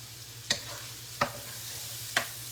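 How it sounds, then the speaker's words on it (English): Onions and peppers cooking in a pan for shrimp and sausage pasta, a soft steady sizzle broken by three sharp stirring scrapes spaced about a second apart, over a low hum. "I'm just going to cook those for just a few moments until those onions and peppers get soft enough"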